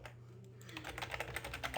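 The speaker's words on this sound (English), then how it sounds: "let me type it" Rapid keystrokes on a computer keyboard, a quick run of light, evenly spaced clicks close to the microphone with a faint steady hum underneath.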